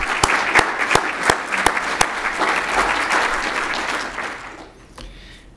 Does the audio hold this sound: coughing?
no